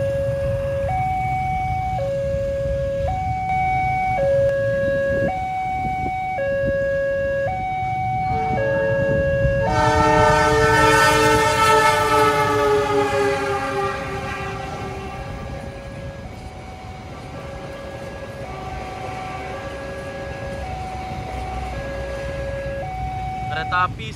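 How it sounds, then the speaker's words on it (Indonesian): Sancaka passenger train passing the Alun-Alun Sragen railway level crossing in Central Java: a continuous stepped two-tone crossing alarm runs throughout, and a loud, close, sustained train horn blares midway before the alarm carries on alone. "Tapi Sancaka menuju Jogja dari Surabaya Gubeng melintas."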